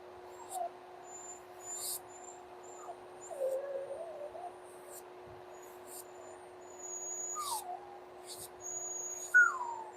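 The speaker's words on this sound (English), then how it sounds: "Can you guys hear the dogs starting to whine in the background" Dogs whine faintly in the background during a nail appointment, with a few brief rising and falling whimpers spread across the quiet scene, mixed with small high clicks.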